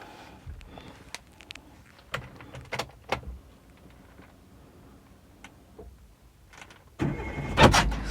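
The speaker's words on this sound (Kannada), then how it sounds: "ಗಾಡಿನ ಫಸ್ಟ್ ನಾನು ಸ್ಟಾರ್ಟ್ ಮಾಡ್ತೇನೆ" A car engine cranks and catches near the end, a loud broadband burst after a stretch of quiet clicks and small mechanical ticks, recorded from inside a manual-gear car.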